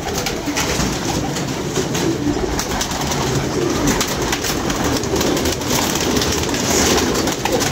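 Pigeons kept in a loft, cooing steadily and close, with bursts of wing fluttering under a constant background hum.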